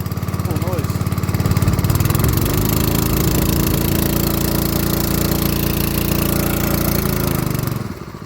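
Warton 8HP petrol water pump engine revving up to full throttle, a loud, steady, buzzy roar held for several seconds, then easing off at the end.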